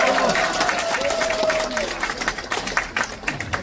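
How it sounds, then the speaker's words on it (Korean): Lecture audience applauds at a community committee event in Cheongju, a dense burst of clapping that continues and gradually thins into scattered claps, with a tonal voice or note briefly over it at the start. "큰 박수 부탁드리겠습니다"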